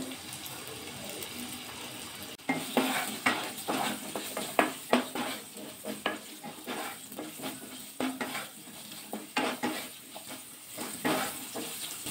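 Potato pieces stirred with salt and turmeric in hot oil, part of an aloo paneer dish: steady faint sizzle with repeated scraping and clinking of a utensil against the pan, no talk.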